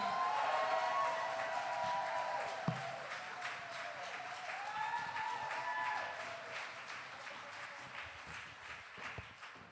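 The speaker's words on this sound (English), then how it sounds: "One more round of applause, please." Audience applause at a Birmingham Black History Month launch event following a spoken-word performance, a steady wash of clapping that fades gradually, with a faint voice briefly over it.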